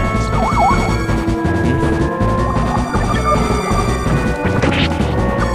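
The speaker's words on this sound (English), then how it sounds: "Crashing meteor." A meteor crashes in the Terranigma video game, a loud sustained smashing roar with warbling, siren-like tones over a dense rumble, heard alone without talk.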